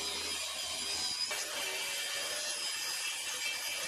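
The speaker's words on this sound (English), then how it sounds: "I need to cut another 7 of these strips out" Power saw cutting thin wood strips outdoors, a continuous bright rasping whine that holds steady at close range, with a brief shift in tone about a third of the way through.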